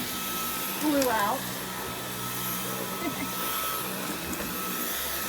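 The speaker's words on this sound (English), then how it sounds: "Quick vacuum." A quick vacuuming inside an RV, the cleaner's steady whir running through the whole stretch at moderate level while voices talk over it.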